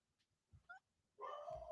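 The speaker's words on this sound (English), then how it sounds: "We spend the next 5 minutes Kodak barking" A dog barks a few times in quick short yips at moderate distance, followed by a louder, sustained bark or whine near the end, with near silence between.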